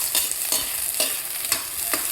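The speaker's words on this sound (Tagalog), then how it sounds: "Mag-isa tayo ng bawang at sibuyas." Garlic and onion sauté in a pan, sizzling steadily under quick repeated stirring strokes, close up with no voices.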